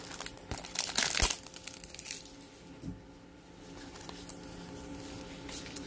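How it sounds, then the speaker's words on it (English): A plastic package holding temporary tattoo foil crinkles close by in uneven bursts, loudest at the start, then settles into softer rustles with no voices. "it's inside a plastic package."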